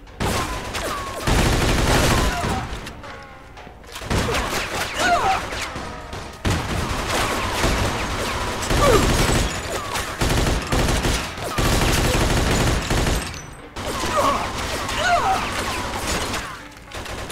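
Long rattling bursts of Thompson submachine gun fire from the video game Mafia 2 come loud and close, several sustained volleys separated by short pauses, with crashes and impacts mixed in.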